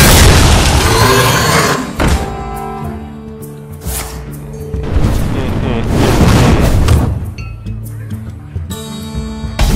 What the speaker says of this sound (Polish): Tajemna eksplozja.